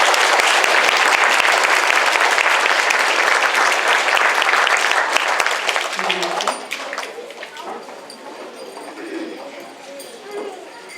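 An audience at an elementary school end-of-year awards ceremony for first and second graders claps loudly and steadily for several seconds. The applause then thins and fades into scattered claps and murmuring.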